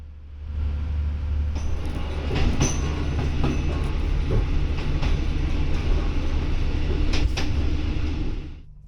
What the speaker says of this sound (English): Here we meet with a southbound local train